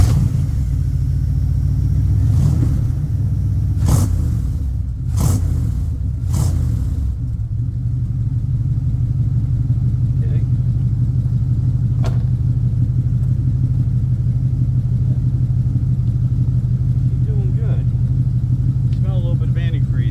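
A 1992 W250 pickup truck engine turns over in several short cranking bursts, then catches and settles into a steady, loud, even idle rumble that continues to the end.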